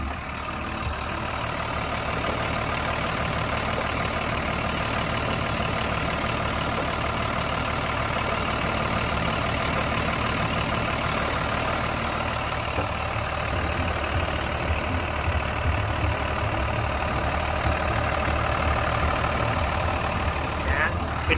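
A Cummins six-cylinder turbo diesel engine on a Tadano GR-160N-1 16-ton crane idles steadily throughout, a constant low rumbling drone with a faint mechanical whine on top.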